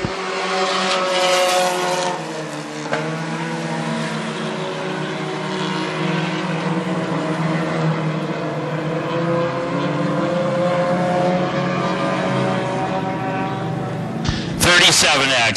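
Hornet class race cars circle Ogilvie Raceway, their engines droning steadily and loudly throughout, with an announcer calling the race over the continuous roar.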